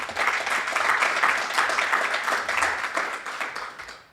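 Sustained applause from a club luncheon audience for a state representative, a dense wash of many hands clapping steadily for about four seconds before tapering off at the end.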